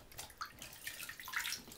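Bath water sloshing and splashing softly in a bathtub, faint and close, in short irregular bursts with no talking.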